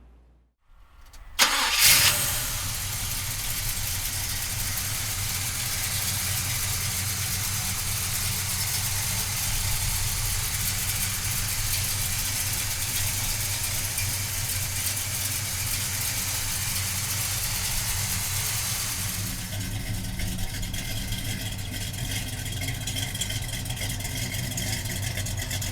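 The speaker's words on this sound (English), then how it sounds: "we'll fire up this numbers matching 396 for you right now" Numbers-matching 396 V8 in a 1970 Chevrolet Chevelle cranks briefly and fires, then settles into a loud, steady, rumbling idle that runs on for over twenty seconds with no talk.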